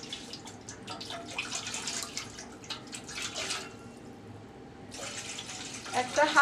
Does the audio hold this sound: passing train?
no